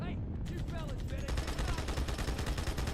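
Chunky rapid gunfire in Halo 2, a fast rhythmic burst of repeated shots that kicks in after a brief mixed opening and keeps going to the end, with a voice faintly present at the start.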